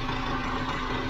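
Wuling car engine idling in a normal condition after about 11,000 km, a steady, close, low mechanical hum and rumble without speech.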